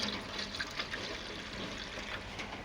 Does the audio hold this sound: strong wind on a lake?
no